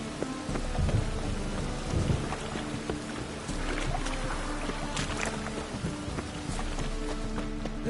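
Steady rain and a thunderstorm in The Witcher Wild Hunt, with continuous patter and low rumbling thunder that swells and fades throughout, and faint scattered sounds mixed in.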